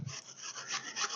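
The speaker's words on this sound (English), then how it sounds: "I'm just going to cut this onion in half, and I'm going to grate some onion" An onion is rubbed against a metal grater for potato latkes, making a soft, continuous rasping scrape with slight rhythmic surges, fairly quiet and close, with no voices.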